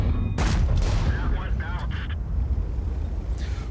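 Tank cannon fire in the video game World of Tanks: a loud, booming shot near the start over constant low engine rumble, followed by fainter metallic pings and a short whine, all under continuous talking.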